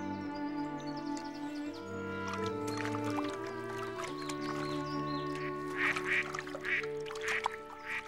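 Ducks quack over a musical score with steady tonal notes, the calls clearest toward the end and mixed with light splashing and paddling water from a boat.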